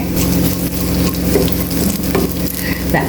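Small pieces of ginger frying in hot oil for a Kerala-style egg curry, a loud continuous sizzle with a low rumbling undertone and light stirring, close up and without speech.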